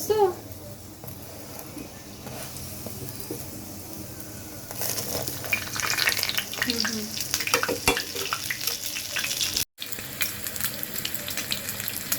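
A mughlai paratha frying crisp in an oil-filled pan gives a soft, continuous sizzle that swells louder partway through, with scraping and stirring noises and a brief cut near the end.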